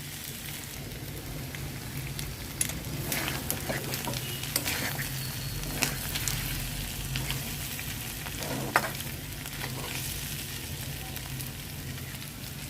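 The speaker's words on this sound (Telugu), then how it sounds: "వేసి ఒక రెండు నిమిషాలు ఇలా ఫ్రై చేసిన తర్వాత ఆపేస్తే అయిపోయినట్టు" Chicken fry sizzling steadily in a pan, a continuous crackling hiss with occasional louder pops and stirring scrapes, close and even throughout with no talk.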